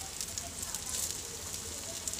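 Chicken shami kebabs fry in a pan with a continuous, dense crackle and sizzle, close and fairly loud, steady throughout the short stretch.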